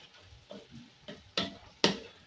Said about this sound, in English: You stir your meat